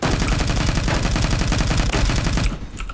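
A SCAR HAMR rifle fires in a video game, a loud, continuous rapid-fire stream of automatic gunshots with heavy low thumps that stops abruptly near the end, leaving quieter game ambience and no talking.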